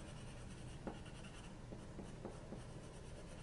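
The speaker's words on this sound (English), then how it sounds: "I'm going over all of this with my white Prisma." Soft, steady scratching of a white Prisma wax-based colored pencil being layered over paper, with a few faint strokes ticking through a continuous drawing texture, close and quiet with no talking.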